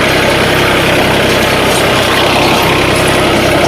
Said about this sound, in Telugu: 3036 ఇయ్యానండి, 36 హార్స్పవర్ గల ఇంజిన్ అండి.